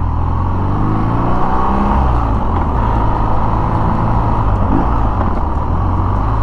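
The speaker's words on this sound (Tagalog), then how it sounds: "Engine brake." A BMW R nineT Urban GS motorcycle engine brakes on a downhill during a test ride, a loud, continuous low rumbling drone with shifting pitch and heavy wind and road noise close to the mic.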